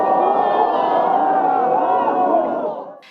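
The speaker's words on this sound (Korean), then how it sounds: "늦은 밤 추위도 잠도 잊은 우주발사 전망대에선 연신 환호가 쏟아졌고" A crowd at the Nuri rocket launch viewing site cheers late on a cold night, a loud, continuous roar of many voices that holds steady and then fades away at the end.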